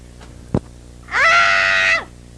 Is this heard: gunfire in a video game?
no